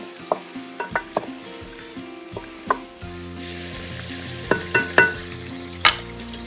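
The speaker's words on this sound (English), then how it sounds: "I don't want to overcrowd the pot because then it won't fry the way I want it to fry" Chicken pieces frying in a pot for a chicken and cabbage stew, with a steady sizzle that swells louder partway through, broken by sharp clinks and knocks of utensils against the pot.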